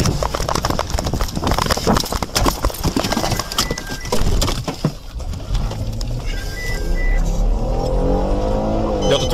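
A car speeding away from police during a pursuit, a loud engine roar with clattering bursts and rushing road noise that shifts into a rising, sweeping whine as it pulls off, close and intense.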